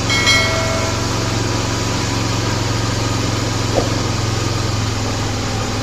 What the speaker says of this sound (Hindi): और थर्ड टर्न के ऊपर एक्चुअली बहुत ज़्यादा आरपीएम बढ़ गई।